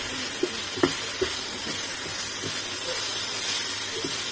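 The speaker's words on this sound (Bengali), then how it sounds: "আর এই মশলাতে কিন্তু ঢেঁড়সগুলোকে আমি ভালো করে কষিয়ে নিব।" Marinated okra sautéing in a thick spice masala over low to medium flame: a steady sizzle and hiss broken by a few soft clacks of a spoon stirring the pan.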